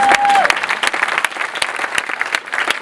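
A church congregation bursts into applause acclaiming God, dense continuous clapping from a crowd filling the whole moment, steady and lively with voices mixed in.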